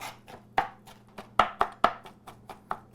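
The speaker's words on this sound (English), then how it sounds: "with a sharp knife, I'm just going to chop it up even more so" A sharp knife chops corned beef and cabbage filling, with potatoes, on a board, giving about eight crisp, irregular thuds close by with short gaps between them and no talking.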